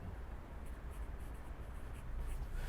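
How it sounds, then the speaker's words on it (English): A pen scratches over sticky tape in soft, rapid scribbling strokes, faint and close, with no one speaking. "trying to write over the sticky tape there, as indicated"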